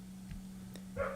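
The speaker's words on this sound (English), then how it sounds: "Sorry about the barking dog." A dog in the background of a Monday Night Football live stream gives a couple of short, faint barks or yips, the loudest near the end, over a steady electrical hum.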